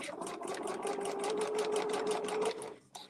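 A sewing machine stitches fabric for a cosplay costume in a fast, even run of mechanical clatter lasting about two and a half seconds. It stops abruptly and is followed by a brief click, with a voice faintly present.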